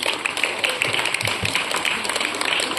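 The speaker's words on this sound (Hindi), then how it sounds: "तालियां हो जाए एक बार इनके लिए।" An audience claps for students at a school prize distribution on Gandhi Jayanti, a steady patter of many hands close by, continuous and fairly even throughout.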